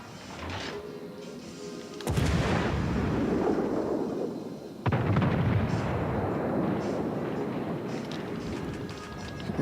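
Warship guns fire in a World of Warships: Legends naval battle, two heavy booming salvos a few seconds apart, each followed by a long loud rumbling roar.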